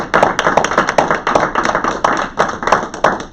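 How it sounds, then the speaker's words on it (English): A small group of school board members clap at a meeting, a handful of distinct, close hand claps in an uneven rhythm rather than a dense crowd roar. "So if we give a round of applause here, board members."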